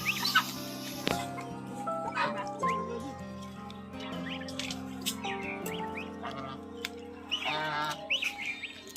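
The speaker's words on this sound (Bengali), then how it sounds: "হাঁসগুলো কিন্তু খুবই দুষ্টু করছে, আর তার জন্য কিন্তু মুরগিগুলো চলে যাচ্ছে" Chickens and ducks together in a farmyard: close, busy clucking and squawks overlap with quacking-like calls and scattered peeps, loud bursts alternating with quieter stretches, and a voice talks briefly.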